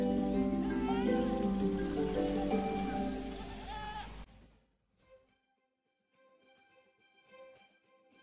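Herd of goats in Namibia bleating loudly in overlapping, wavering calls for several seconds, then cutting off abruptly and leaving only faint, sparse sounds behind.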